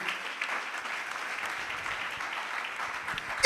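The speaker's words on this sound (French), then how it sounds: "Acclamons Dieu" Church congregation clapping during a sermon, a steady, dense round of applause heard from within the crowd, moderately loud and sustained throughout with no speech over it.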